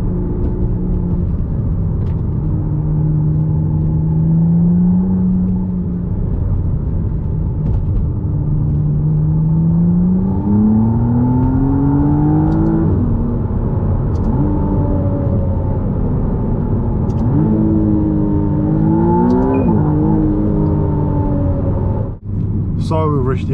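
A McLaren Artura accelerating on the road, its engine tone rising through several gear changes over a steady low rumble, close and continuous beneath someone talking.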